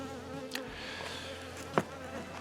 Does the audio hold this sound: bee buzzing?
yes